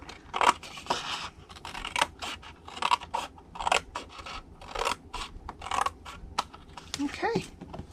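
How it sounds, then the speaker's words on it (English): Scissors snip repeatedly through a strip of cardstock for a stamped Halloween treat holder, in a rapid run of crisp, close cuts. "you're going to cut it to the first score line and then cut all this off again"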